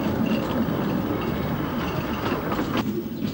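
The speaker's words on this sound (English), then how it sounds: "This is an electric locomotive, a machine weird enough to be borrowed for a Bond movie a few years ago." A 1950s narrow gauge electric locomotive rolling along rails, giving a steady, loud rumble and rattle of wheels on track with no pauses and no voices.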